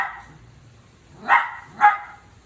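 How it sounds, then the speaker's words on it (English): A pet dog, eager to chase squirrels outside, barks twice in sharp, loud yips about half a second apart after a quieter whine, with no talk over them. "Oh, my doggy is going crazy. She wants to go outside and chase the squirrels."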